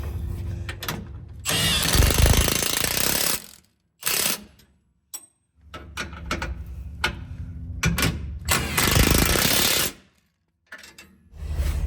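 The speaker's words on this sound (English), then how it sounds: "we're going to tighten up those bolts to 120 foot-pounds of torque" A 21mm wrench and socket tighten the spare tire bolts on a Jeep Gladiator carrying a 37-inch spare in the factory location. Close, loud bursts of ratcheting and metallic clicking come in several separate runs, with short quiet gaps between them.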